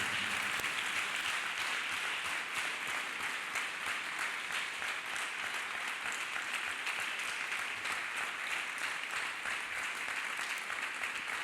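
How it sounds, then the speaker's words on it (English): A church congregation claps hands steadily and continuously for over ten seconds, a dense, moderately distant patter of many hands with no talk over it. "Clap hands for Master Jesus Christ."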